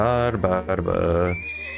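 A horse whinnies once in the video game Trails of Cold Steel II, a quick rising and falling neigh that ends in a high thin tail, close and fairly loud.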